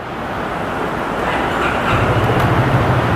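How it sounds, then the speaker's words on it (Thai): A 2022 Honda ADV350 scooter running on its stock exhaust: a dense, steady mechanical roar with a low, throbbing hum that thickens partway through. "คันนี้ยังคงเป็นท่อเดิมครับมาฟังเสียงท่อนี้กัน"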